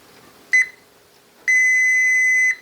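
Electronic beeps from a multimeter continuity tester probing the coils of a Grab-N-Win crane game claw: a short tone, a pause, then a longer steady beep of about a second, clear and close with no talk.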